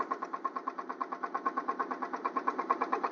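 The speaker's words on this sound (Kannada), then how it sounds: "ನಾವೀಗ ಬೋಟ್ ರೈಡಿಂಗ್ ಮಾಡತ್ತೀವಿ ನೋಡ್ರಿ" A motorboat engine runs steadily on the Sharavati river, a close, rhythmic chugging throb with regular pulses and no voices over it.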